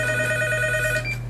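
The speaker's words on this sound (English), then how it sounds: "The telephone rang." A telephone rings with a steady electronic ringing tone, one sustained ring that cuts off near the end, loud and close with no voices.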